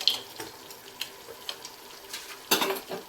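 Roasted peanuts stirred into a tangy gojju in a pan, with scattered soft scrapes and light clinks, a brighter clatter near the end over a faint background hiss.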